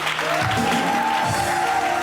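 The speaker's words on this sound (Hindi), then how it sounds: "तो हमारी सुपर मॉडल के लिए भी बहुत सारी तालियां बजाइए जी।" A television studio audience applauds a supermodel's entrance at a fashion segment, loud continuous clapping overlaid by sustained music tones and a few low voices.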